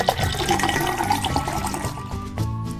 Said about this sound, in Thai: เรามาเอาน้ำสีแดงของเราเนาะเทใส่แก้วดีกว่า